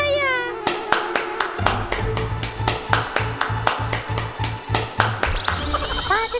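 Hand clapping in a steady run of sharp, evenly spaced claps at a roadside sugarcane juice stall, loud and close, with a low rhythmic thump running underneath.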